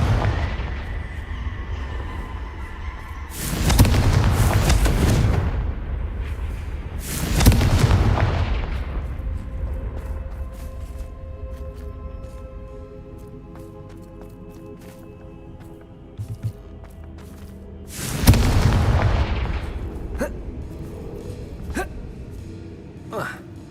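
Confringo spell blasts in Hogwarts Legacy, three loud booming fiery explosions spaced apart, each trailing off into a rumbling decay amid game ambience.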